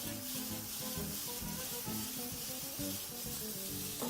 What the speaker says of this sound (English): proceed once more to toss everything together, giving it one final mix